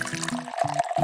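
Water pours in short, separate bursts, splashing into a container nearby, three or four quick gurgling pours with brief gaps between them.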